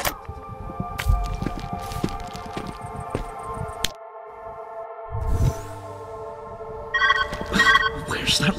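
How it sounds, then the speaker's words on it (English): Telephone ringing in the puzzle video game Viewfinder, bright repeating rings rising near the end over layered game music and ambience, with a voice speaking in between. "Where's that ringing coming from?"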